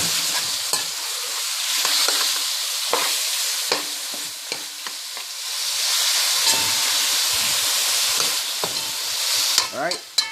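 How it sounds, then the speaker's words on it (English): Jamaican curry chicken being stirred in a hot pot: a continuous sizzle and steamy hiss with scattered scraping and clinking of a spoon against the pot, a sharper clatter near the end. "once you put it in, you stir it and leave it"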